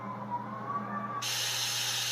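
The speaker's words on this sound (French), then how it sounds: "Donc là, le vent." A white noise night light plays a wind sound, a low, wavering whistle with a soft rumble beneath it. Partway through it cuts abruptly to a brighter, louder, steady static-like hiss, and no voices are heard.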